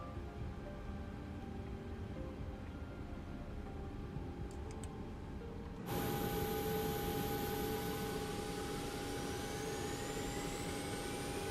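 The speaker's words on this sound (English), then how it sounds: "Incredible start sounds on this airplane." An MD-11 jet engine spools up in a flight simulator: a steady low hum, then a sudden louder whine with a rising tone that climbs steadily as the start continues.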